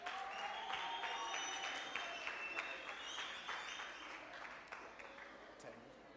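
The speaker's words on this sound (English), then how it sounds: "Let's give them a round of applause as well." An audience at a school robotics challenge applauds the principal and facilitators, giving moderate, steady clapping for about six seconds that fades slightly toward the end.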